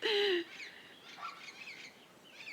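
Several birds call in open air, with one loud, clear whistled note at the start followed by fainter chirps and warbles scattered at moderate distance.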